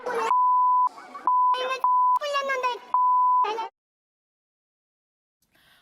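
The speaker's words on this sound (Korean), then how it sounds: "지금 영상을 보시면 계속 삐삐삐 소리가 지금 난무하고 있습니다" Steady censor beeps repeatedly cut over shouted speech, several long tones in a row, then the clip falls silent.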